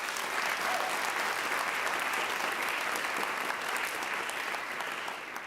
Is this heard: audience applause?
yes